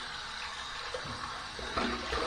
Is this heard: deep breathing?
no